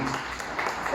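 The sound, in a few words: church congregation applause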